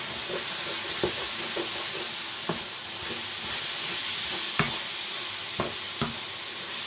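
Onions and beef sizzle steadily in a hot pan while a utensil stirs, with occasional sharp scrapes and taps against the pan over the constant frying hiss.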